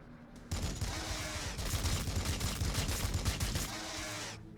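Rapid sustained weapon fire from a Warhammer 40K Battlesector battle, a dense rattling volley of shots that starts abruptly and holds loud and steady for about four seconds.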